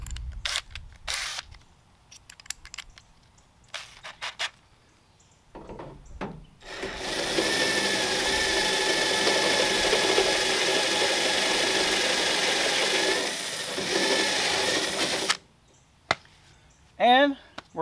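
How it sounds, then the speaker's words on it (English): A step drill bit bores a hole through the body or bumper panel of a Ram R/T being fitted with dual side-exit exhaust, giving a loud, steady grinding whir of about eight seconds after a few short handling knocks, then tapering off. "And finally, step bit."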